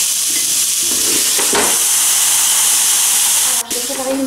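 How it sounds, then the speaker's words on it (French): Aubergine slices, drained after salted water, sizzling without oil on an electric grill: a loud continuous hiss with a brief crackle and a short clunk near the end. "là je vais les faire griller dans l'appareil"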